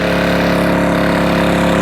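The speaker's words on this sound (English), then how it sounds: "I love these little inverter generators." An EcoFlow SG3000 dual fuel inverter generator runs steadily, heard close to its exhaust as a loud, even engine drone with a low pulsing throb.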